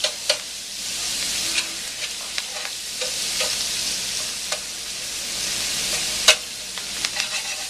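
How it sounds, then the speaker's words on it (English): Celery, carrot and onion fry together in a large frying pan, a continuous hiss broken by clinks and scrapes of stirring, with no voices. "Then I add my 2 cups of celery, carrot, and onion. We want to cook that all together."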